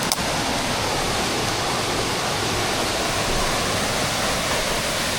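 Waterfall in the city of Loulé, Portugal, pouring as a steady, loud broadband rush of water that stays constant throughout, close by and with no voices.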